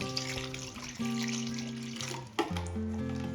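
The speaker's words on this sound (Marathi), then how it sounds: "आता यामध्ये आपण थंड पाणी ॲड करूया" Cold water pours steadily into a bowl of ice close by, its pitch shifting as the level rises, with a brief clunk partway through.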